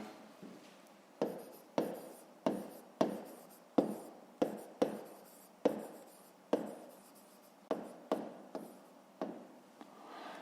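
Pen strokes for a fifth-grade geometry exercise write down a rectangle's width: over a dozen close, crisp scratches, each starting sharply and trailing off, come in an uneven rhythm in a quiet room.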